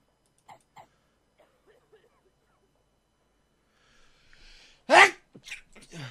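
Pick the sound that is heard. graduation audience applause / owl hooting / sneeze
sneeze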